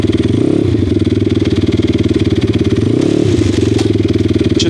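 An XMOTOS 150 pit bike engine revs up through the gears, with loud, close, rhythmic putter and rising pitch sweeps at each shift, running continuously with no talk.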